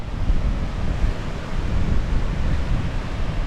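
Wind roars at the top of a waterfall on the Cape Wrath Trail in Scotland, a continuous loud buffeting rush that batters the microphone, with the water's broadband noise blended underneath.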